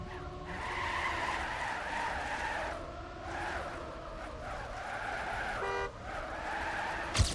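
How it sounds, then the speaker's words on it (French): Car horns toot amid a pack of race cars in a racing video game, a sustained engine and tyre roar running throughout with brief horn blasts near the end. "Alors que ça klaxonne dans le peloton."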